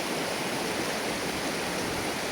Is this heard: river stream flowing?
yes